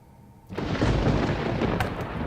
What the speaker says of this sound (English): That is the sound of thunder.